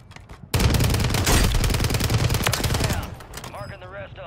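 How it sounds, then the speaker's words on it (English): Rapid bursts of gunfire from a video game shootout on a superstore resurgence map erupt loudly and continue for a few seconds, then thin out as a player's voice comes in. "He's shooting me underneath a king."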